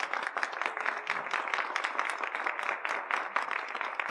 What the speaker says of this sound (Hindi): इस बात के लिए जोरदार तालियां।